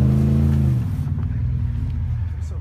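A car with a factory exhaust revs and pulls away, giving a muffled, fairly quiet engine rumble that stays steady and close throughout.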